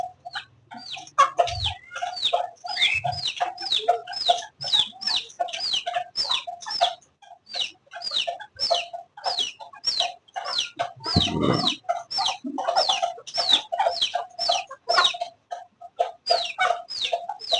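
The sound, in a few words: hen and chicks clucking and chirping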